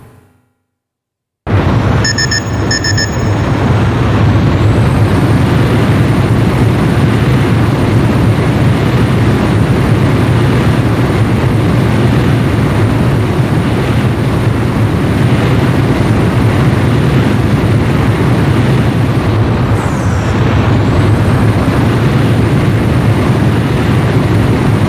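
Fighter jet engines roar steadily in Ace Combat Joint Assault, a loud, constant broadband whine and rumble that holds for over twenty seconds after an abrupt start, with a faint tonal sweep near the end.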